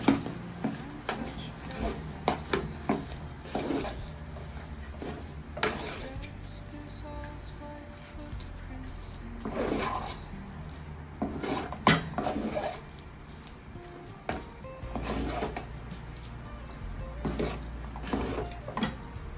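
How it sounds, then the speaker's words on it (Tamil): Thick black urad dal kali is stirred and dragged around a pan, giving repeated scraping and knocking strokes of a spoon against metal, close and moderately quiet with brief pauses. "நல்லா இழுத்து கிண்டுங்க."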